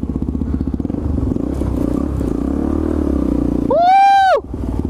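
A supermoto motorcycle engine chugs at a steady idle-to-low rev, then revs up into a loud rising whine and drops off as the bike climbs a brick quarter pipe, close by.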